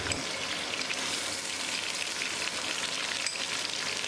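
Onion with garlic and ginger paste fries in a pan on medium flame, producing a dense, even, close sizzle like steady rain that continues without pause.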